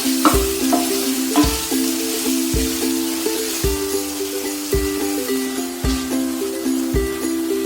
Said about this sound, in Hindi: जब सब्जी पक रही हो तो उसे एक बार खोलकर हिला दें बीच में, ताकि वो नीचे ना लगे